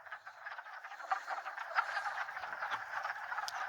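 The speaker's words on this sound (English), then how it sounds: "And there's frogs all over." Frogs croak together at a spring pond, a faint, continuous chorus of rapid, overlapping rattling calls with no voices.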